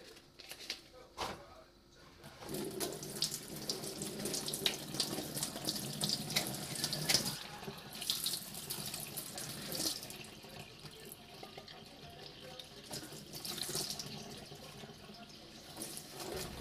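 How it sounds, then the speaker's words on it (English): Warm water runs steadily from a kitchen tap into a sink while a paper label is peeled off a metal can, a continuous close splashing stream with faint birdsong in the background. "I normally do this under running warm water as this helps the paper to come away cleanly from the glue blobs used to hold it to the can."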